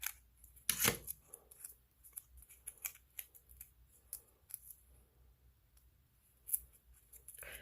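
Small scissors snipping a Color Street nail strip during a manicure, a sharp close cut at the start followed by a scattering of faint clicks and light snips, heard alone.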